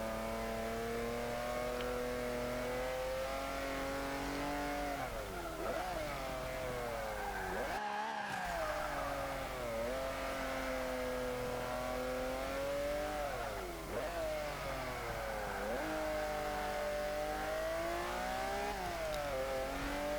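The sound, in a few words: 1940 Ford De Luxe Coupe driving in Forza 5 video game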